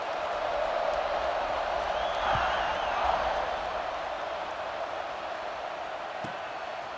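Stadium crowd noise in a college football video game, a steady broad roar of cheering fans that swells slightly midway, heard from a distance without any commentary over it.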